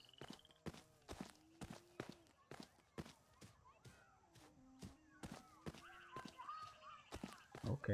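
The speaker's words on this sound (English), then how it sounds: "Footsteps." Footsteps in Shenmue III, a steady run of sharp, close steps walking along at an even pace over a quiet outdoor nature ambience, with a few faint tonal sounds in the background.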